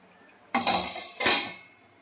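A lid goes onto a pot of bottle gourd and soybean curry with two close metallic clanks, the first a rattling clatter and the second a brief ringing knock, heard alone in a quiet kitchen.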